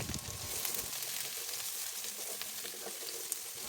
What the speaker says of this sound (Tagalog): gisahin na natin ang ating aromatics tulad ng luya, sibuyas at bawang